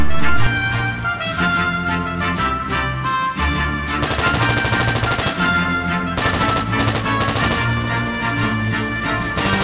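Battlefield 2 PC combat, with rapid automatic gunfire in loud, sustained bursts and heavy shots sounding out over an ongoing layer of battlefield noise, broken by brief pauses.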